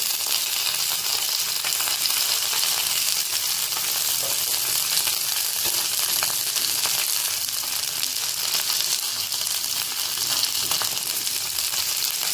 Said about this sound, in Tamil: இப்படியே சேர்த்து வதக்கிக்கோங்க.